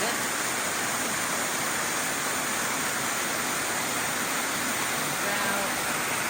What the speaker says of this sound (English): this is definitely one of the nice waterfalls